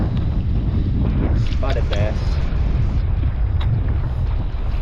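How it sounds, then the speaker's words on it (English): Strong gusting wind buffets the microphone at a lake dock, a steady loud rumble under the whole stretch, with someone briefly talking over it. "Windy dock."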